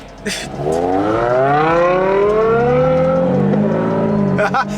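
A BMW 335i (F30, N55 engine) revs up loudly and close, its pitch climbing and falling in one long sweep, with brief voices at the start and end.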